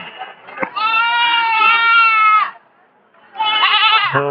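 Goats penned at a busy livestock market bleat loudly and close by, one long wavering call and then a second after a short pause.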